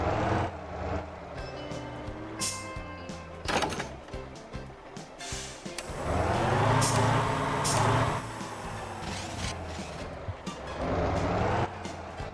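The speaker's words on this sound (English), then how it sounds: "that's the parking brake engaging and re-engaging, disengaging and re-engaging" A truck's parking brake in the video game Motor Town releases and re-engages with several loud, sharp air hisses and clunks over a low idling engine, spaced a few seconds apart.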